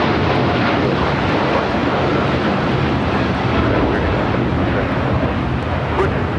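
A United Boeing Dreamliner airliner at LAX makes a loud, steady roar of jet engines that fills the whole stretch without letting up, heard from nearby at the airport.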